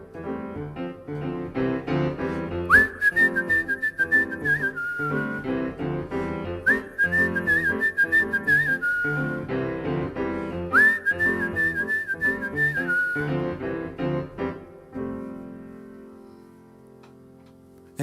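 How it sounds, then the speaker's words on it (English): Melodic whistling drenched in reverb at a livestreamed jazz gig, phrases returning in a repeating tune over soft musical accompaniment, clear and close with a lingering echoing tail. "Oh, let's put the reverb on, shall we? Make it sound nicer,"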